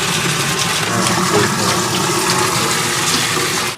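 Loud, continuous rush of water pouring into and filling an aquarium tank, steady and close, with a broad hissing splash throughout.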